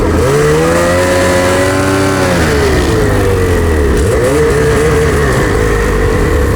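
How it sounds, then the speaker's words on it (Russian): Motorcycle engine starting and then revving hard, loud and close, with rising and falling throttle blips running the whole time and no talking over it. "Заводи. Заводить? Подгазовывай, Стас."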